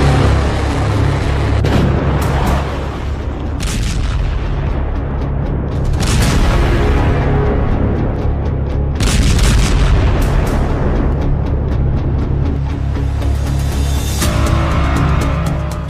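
Explosions and artillery fire in an Israeli bombardment of a war zone, loud booms and heavy blasts landing in rapid succession over a continuous rumbling roar, with sharp bursts recurring every couple of seconds.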